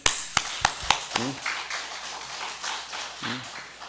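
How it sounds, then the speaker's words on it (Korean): Congregation clapping at a Sunday morning church service: a few sharp separate claps open, then softer, scattered clapping continues, with brief voices heard. "우리끼리 한번 영광의 박수 올립시다."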